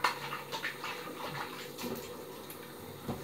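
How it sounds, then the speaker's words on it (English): Running water rinses freshly shaved head hair down a bathroom sink, a steady close splashing wash with small clinks and surges throughout. "Keep washing down the sink and the hairs"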